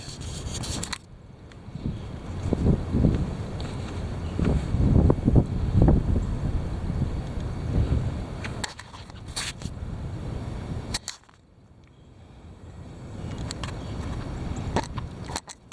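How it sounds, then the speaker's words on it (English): Heavy wind roars in loud, rumbling gusts against the microphone, broken by a couple of sudden brief lulls before surging again. "Here it is. The wind."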